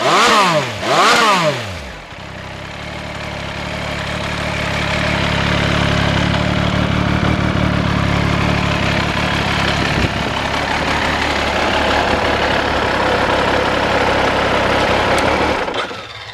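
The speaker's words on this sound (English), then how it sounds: "That's our Benelli Tornado 1130 TNT Sport Evo." A 2008 Benelli Tornado 1130 TNT Sport Evo motorcycle with a clattery clutch basket, revved briefly twice and then settling into a loud, steady, rumbling idle close by for many seconds.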